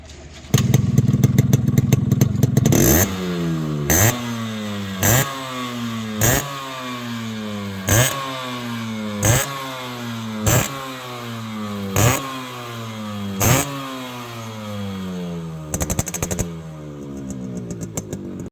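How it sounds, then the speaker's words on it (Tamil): A Yamaha RX motorcycle engine idles with a chugging beat, then is blipped repeatedly, about nine sharp revs each falling back to a steady, close idle. "இப்போ இந்த வண்டியோட பீட் சவுண்டு கேளுங்க"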